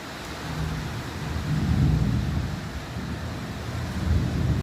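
Thunder rumbling during a storm with rain, heard as a sustained low, rolling roar that swells and fades across the whole span, loud and unbroken, with no talking.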